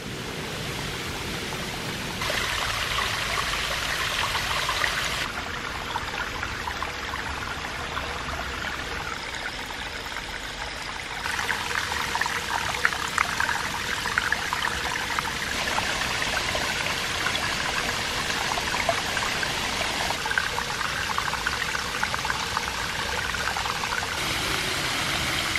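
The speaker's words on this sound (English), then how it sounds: "You can see how incredibly shallow the water is at the edge of the waterfall." A spring waterfall flows steadily, a loud continuous rushing and splashing roar of water that fills the scene with no voices.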